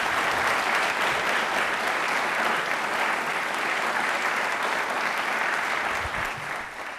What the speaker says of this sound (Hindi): एक बार प्लीज जोरदार तालियां होनी चाहिए सीमा विजय मैम के लिए